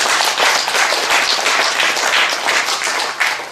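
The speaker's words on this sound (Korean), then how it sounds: "우리 하나님께 큰 영광의 박수를 올려드립니다" Dense applause from a church congregation fills the room, many hands clapping steadily and loudly throughout with no speech over it.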